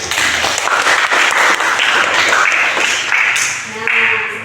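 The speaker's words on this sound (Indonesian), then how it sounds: "kita kasih aplaus dulu buat kelompok 1." A classroom group claps for group 1 in a sustained round of applause, fairly close and loud, with voices mixed in and a teacher speaking near the end.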